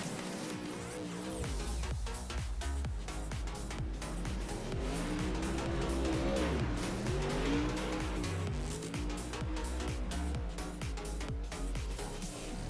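A UMP Modified race car drifting around the Limaland track in a racing video game: a continuous engine drone swells and dips, with tire squeal and skidding as it slides through turns.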